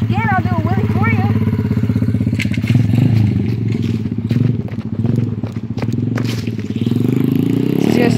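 A modified SSR125 pit bike engine buzzing loud and close through its gears on a dirt run, with people talking over it.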